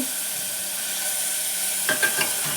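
Tomatoes going into a hot pan in a home kitchen while making medu vada, with a steady sizzle of frying that bursts into a few louder crackling spits near the end.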